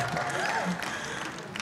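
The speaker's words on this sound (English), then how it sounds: "If you want to applaud, y'all can applaud now." Applause from an inauguration audience, a brief patter of clapping mixed with a talking voice, moderately close and not very loud.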